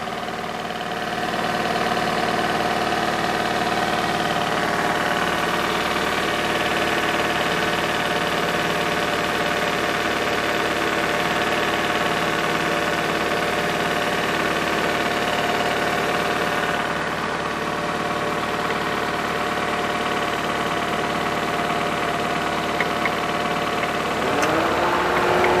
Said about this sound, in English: So now I have the engine running.